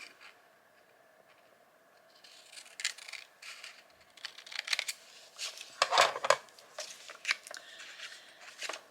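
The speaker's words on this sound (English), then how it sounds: "I'm going to attempt to use my scissors." Small scissors snip paper for an ephemera craft piece, a quiet run of short crisp cuts and rustles starting after a near-silent pause and growing busier, close-up with no voices.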